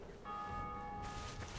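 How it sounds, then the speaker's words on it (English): A single church bell tolls in Dark Souls Remastered, its clear ringing tone sustained and fading over under two seconds, with no voices over it. "every time you hear the bell get rung like that, that means someone's killed the bosses"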